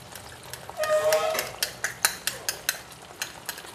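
Spice paste frying in a pan for Punjabi chicken curry, soft sizzle with a string of sharp spoon scrapes and clinks against the pan.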